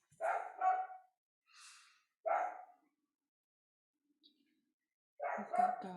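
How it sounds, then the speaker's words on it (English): Street dogs bark outdoors in separate bursts, with a few sharp woofs at the start, a pause, then another single bark and a final pair, moderately distant, with quiet gaps between. "Street dogs all over the place."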